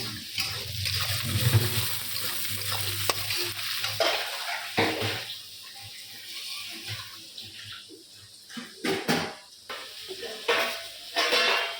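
Onion and tomato fry with spices in a pan, giving an uneven sizzle broken by scraping and clinking stirs, fairly close and moderately loud, with quieter stretches between bursts of stirring.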